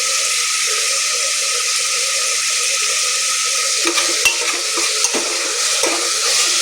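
Vegetable biryani mixture with fried onion is stirred in a hot pan, a loud, steady hissing sizzle filling the clip, with a few scraping knocks of the spoon toward the end.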